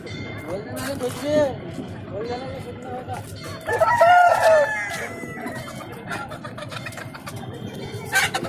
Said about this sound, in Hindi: हे पण गावरानी कोंबड्या मित्रांनो